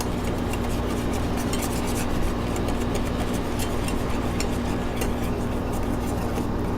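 A whisk scrapes and swirls a sugar mixture in a pan over medium heat, a continuous rhythmic rasping with a steady low hum beneath it.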